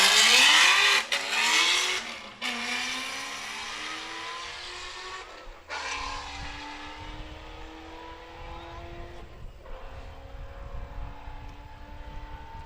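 Race cars at the start of an open road race in Sandhills, Nebraska, including a 2018 Chevy Camaro ZL1, launch with loud engine roars and rising revs that fade as they pull away, with no talk.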